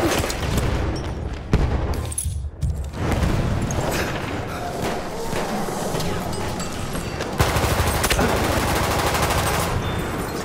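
Battlefield 1 combat at Fort De Vaux: dense rapid gunfire and machine-gun bursts crackle loudly throughout, broken by a heavy grenade blast and a brief lull before the shooting resumes.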